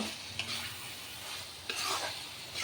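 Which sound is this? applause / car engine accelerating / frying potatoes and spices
frying potatoes and spices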